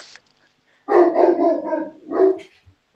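A dog barking indoors, a short loud burst of several rough barks followed by one more bark after a brief pause, close by, with no one speaking.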